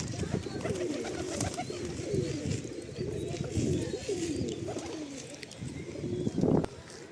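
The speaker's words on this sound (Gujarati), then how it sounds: "આ બધા કબૂતર હવે ખાવાનું ખવડાવવા આવી ગયા છે" Pigeons gather to feed, their soft throaty coos and rustling wings close by, a steady burble of calls with a louder flurry near the end and a voice talking faintly beneath.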